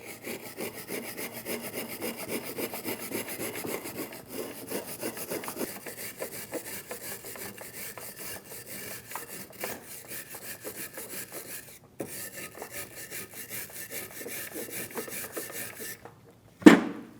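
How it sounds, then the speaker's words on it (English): Wire brush scrubbing rust and grime off a front brake caliper bracket from a 2010-2015 BMW X1 xDrive, a steady close rasping with rhythmic back-and-forth strokes, brief pauses, and a sharp knock at the end. "Using a wire brush, we're going to clean our caliper bracket."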